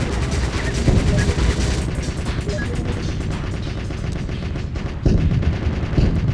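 A tank fires its gun over and over in the video game Tiny Tank. Dense, rapid booming shots run continuously through a loud game soundtrack, with a sharper burst near the end.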